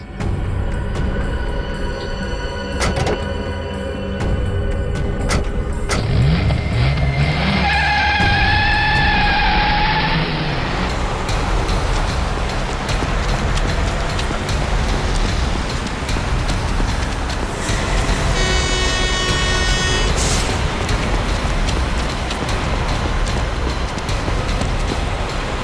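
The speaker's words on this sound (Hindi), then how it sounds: "अबे गाड़ी भगा, तेज चला" A car pulls away fast in an urgent getaway, its engine roar and road noise rushing loud and continuous, with a brief whine partway through.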